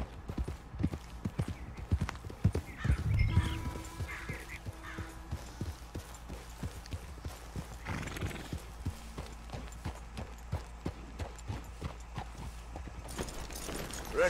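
Steady clip-clop of horse hooves walking at an even pace, fairly close, with a brief snort and faint background ambience, in the video game Red Dead Redemption 2.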